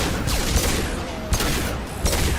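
Heavy gunfire in the sci-fi shooter Mass Effect 2: loud, continuous shooting with a few sharper cracks standing out at intervals over a steady roar of battle noise.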